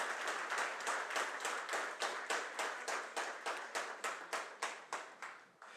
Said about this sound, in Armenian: ես առաջարկում եմ բարձր ծափահարություններով մեր զինվորականներին ողջունել